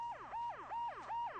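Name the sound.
police car siren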